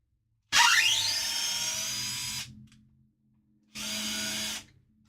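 A power drill drives screws in two close, whining runs: a longer one of about two seconds, then a shorter burst after a pause, over a quiet background.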